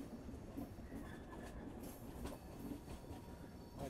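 Tirumala Express train running behind an ALCO locomotive, heard as a steady, faint rumble of carriage wheels on rails with a dull continuous roar throughout.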